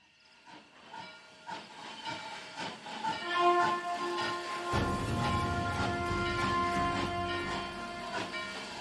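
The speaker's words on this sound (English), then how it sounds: "That ain't no ordinary train." A steam train in a western film arrives with a loud hissing release of steam and a whistle-like tone, building from faint puffs into a continuous, close roar of steam and rolling rail noise.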